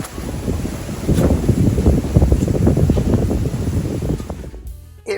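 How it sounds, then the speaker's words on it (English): Strong wind roars and buffets the microphone in heavy, continuous low gusts, then cuts off abruptly near the end. "I am not liking this wind."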